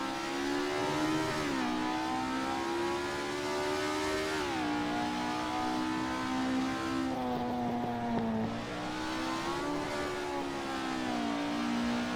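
A Ford Escort RS1600 race car engine drones at high revs at the Nürburgring GP circuit in Assetto Corsa, pitch dipping and climbing with gear shifts, continuous and loud throughout.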